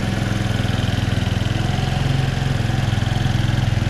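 Kymco Super 8 carbureted scooter, its small engine running cold at a steady idle with a rapid, even putter, loud and close with no talking.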